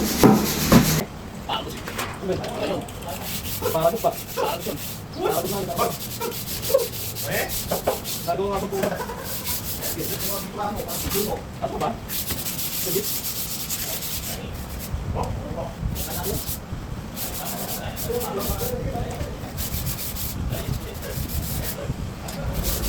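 Electrical wires being straightened and dressed inside a distribution box, heard as steady rubbing and scraping of insulated cable handled up close, with bursts of talk and some knocks throughout.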